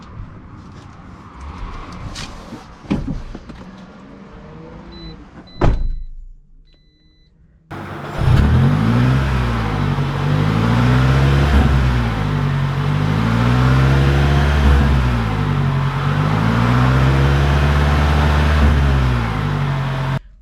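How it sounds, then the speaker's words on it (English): Toyota RAV4 Hybrid on the road, engine and tires holding a steady loud drone with a rising, falling pitch under acceleration, preceded by quieter handling noises and a brief silence before the car pulls away. "let's take this RAV4 out and see how it drives."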